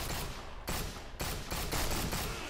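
Loud, dense gunfire fills the zombie survival video game No More Room In Hell, several rapid overlapping bursts of shots close and harsh, with almost no pause between them.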